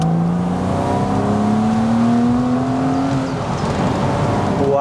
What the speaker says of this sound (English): The flat six is a lovely sounding engine.